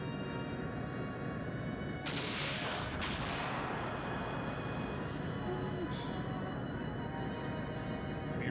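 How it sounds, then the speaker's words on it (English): Sub-cannons fire in the video game Skies of Arcadia, a sharp blast breaking in over dense, continuous game noise and music, with a second burst soon after. "just her sub-cannons from 2000"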